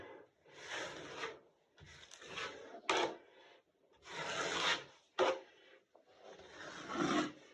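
A drywall knife spreading and scraping joint compound across a wall in a series of raspy strokes, close and clear, with brief pauses between passes and no talking.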